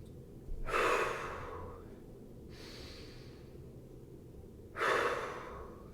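Deep breathing during a yoga-style strength exercise: two strong, close breaths about four seconds apart, each a loud airy rush, with a fainter breath between them in a quiet room.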